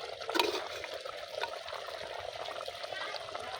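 Water poured in a small amount into a pot of handi chicken with meat and potatoes nearly cooked, a soft pouring trickle near the start that settles into a steady low wash.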